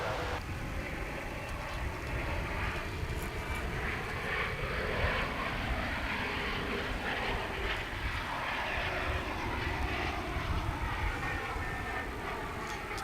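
A Boeing 737-900 jet airliner arriving at DFW International Airport, coming in from Wichita, gives a steady broad engine roar that holds loud and constant throughout, with no voices over it.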